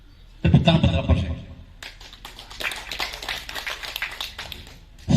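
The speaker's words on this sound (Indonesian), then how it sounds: "Tepuk tangan Pak Kapolsek" Applause at an Indonesian police chief's first working visit, a mixed patter of clapping hands from a gathered crowd, moderately loud and steady for several seconds after a brief pause.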